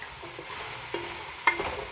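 Squash for Ilocano pinakbet is stirred in a pan over a soft sizzle, with a couple of scraping knocks of the utensil against the pan and no talking.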